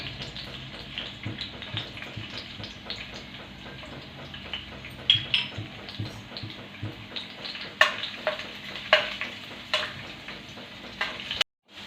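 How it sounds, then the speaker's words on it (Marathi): Garlic fries in hot oil in an iron pan with continuous crackling and popping, and louder spits and bursts scattered throughout before an abrupt stop. "आता तेल छान तापलं त्यामध्ये लसूण टाकून घेणार आहे"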